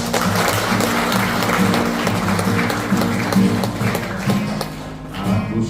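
A church congregation claps along in a steady, loud burst of applause with rhythmic taps, while sustained musical tones continue underneath throughout.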